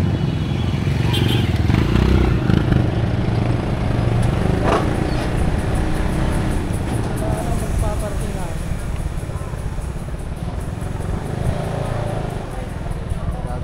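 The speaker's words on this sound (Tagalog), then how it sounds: "Guys, ang daming motor guys dito." Many motorcycles idle and rev around a busy market parking area in Calape, Bohol, a loud continuous engine rumble with clattering and people talking over it.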